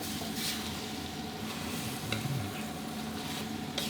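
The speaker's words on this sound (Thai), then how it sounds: "ผัดคลุกเคล้าให้เข้ากันดีเลยครับ" Spicy catfish being stir-fried in a pan, a continuous loud sizzle with repeated scraping strokes of a spatula tossing the pieces, close and alone.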